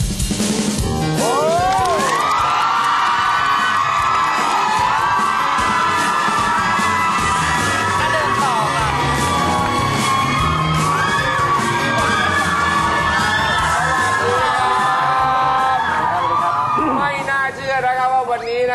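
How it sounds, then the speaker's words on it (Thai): A crowd of teenagers at a Thai TV show screams and shrieks loudly and continuously, high-pitched cheering sustained for a long stretch. "คุณยิ่งยงจะได้ต้อนรับเสียงกรี๊ดของวัยรุ่นขนาดนี้นะครับ"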